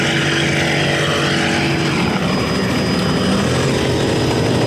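A single-engine V-bottom Superboat racing powerboat, an A-24 at the 1984 Scorpion 100 in Patchogue, NY, roars with a steady, dense engine drone, loud and continuous with no voices.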